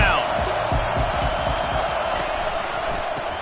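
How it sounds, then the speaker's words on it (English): Football stadium crowd at a college game roaring steadily behind the defense on third down, a dense sustained wall of cheering with low thumps underneath and no pause. "Decibels rising as the crowd gets behind this defense on 3rd down."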